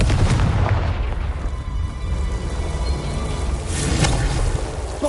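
A spell blast in the Hogwarts Legacy video game, a loud, rumbling explosive boom with a sustained roar and a second burst building near the end, no talk over it.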